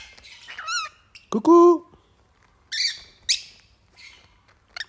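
Pet conure parrots squawking indoors in several sharp, loud bursts with short gaps between them, and a person briefly speaks among the calls.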